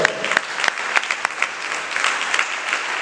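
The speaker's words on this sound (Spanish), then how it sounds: "¿Cuántos le dan palmas a Él?" A church congregation claps steadily for about three seconds, a full burst of applause with sharp individual claps standing out, fairly close and loud.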